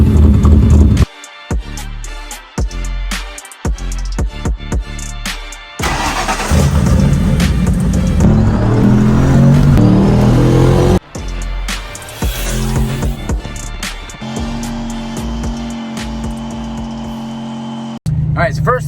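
A Ford Mustang engine starts, then revs and settles through its exhaust, loud and close with bursts of throttle and a steady idle, while someone talks over parts of it.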